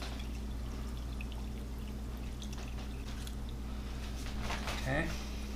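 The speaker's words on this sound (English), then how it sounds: "And then I'm going to fill it with water just above the line of where the heart is." Water pours into a pot over an elk heart and onion, a steady running trickle that swells near the end, heard over a constant low kitchen hum.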